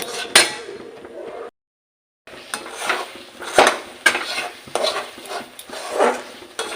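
A spoon scrapes and clinks against a pan while carrot sweet dough is stirred continuously into a stiff dough, with irregular scraping strokes, a brief pause of silence, then more stirring close by.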